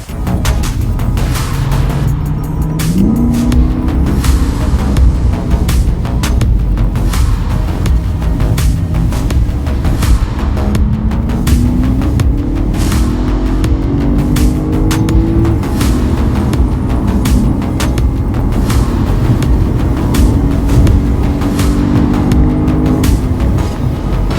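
A 2009 BMW E92 M3 is driven, its engine droning loud and close from inside the car with rising and falling revs through gear changes and steady road rumble underneath.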